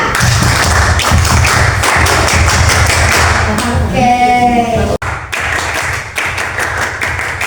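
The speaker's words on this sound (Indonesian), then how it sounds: "marilah kita melakukan tepuk pramuka" A group of scout alumni at a Ramadan iftar gathering performs the Pramuka scout clap together, a quick patterned run of claps and taps, with a brief spoken word in the middle and a short break partway through.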